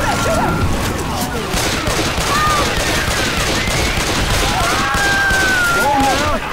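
Rapid gunfire in Left 4 Dead 2: dense, loud bursts of automatic shooting mixed with game effects, running continuously under excited player talk.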